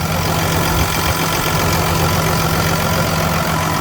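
A Fendt Favorit 712 tractor with a BF6M 2013 engine, tuned to 714 power, runs steadily close by, its deep, even diesel drone and low hum continuing without a break for about four seconds, with no talking.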